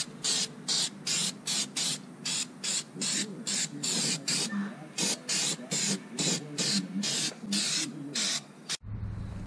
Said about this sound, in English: I'm going to spray them down with some brake cleaner